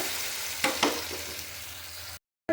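Garlic chutney sizzles steadily in a pan while being stirred, with a couple of scraping clunks of the spoon, then a short cut to silence.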